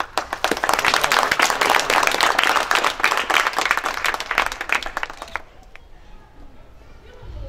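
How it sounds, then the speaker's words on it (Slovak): Wedding guests in Žehra break into dense, loud applause right after a toast, clapping steadily for about five seconds before it cuts off into quieter room noise. "Potlesk."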